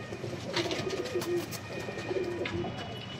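A Sialkoti pigeon coos in low, rolling repeated phrases, close and fairly clear over a faint steady background hum, with no voices.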